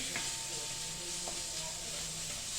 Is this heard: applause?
no